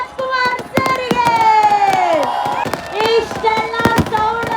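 Crowd at the Ramanagara Karaga festival clapping and cheering loudly, with whistles, shouts and sharp bursts close by, the noise swelling and dipping in waves.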